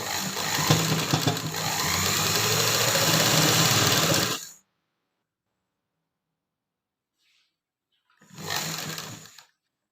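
A sewing machine stitches the seam of a pant pocket in a steady, close run lasting about four seconds. After a silent gap, a second short burst of stitching follows.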